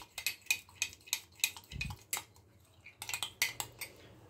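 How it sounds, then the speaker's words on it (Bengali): Set curd being whisked in a bowl, rapid rhythmic clinking and scraping of a utensil against the bowl with a brief pause midway, close and quiet with no talk. "এটাকে আমি খুব ভালো করে আগে ঘুটে নেব।"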